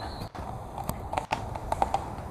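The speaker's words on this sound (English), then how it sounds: "Here comes the horse up the trail." Hooves of a horse clip-clop as it walks up an outdoor trail, a few light uneven knocks heard at moderate distance over faint background noise.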